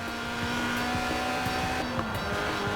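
A Lotus Elise's 1.8-litre engine revs steadily at high pitch toward its 8,000 RPM limit, a sustained mechanical whine with rhythmic pulsing, heard fairly close with no talking.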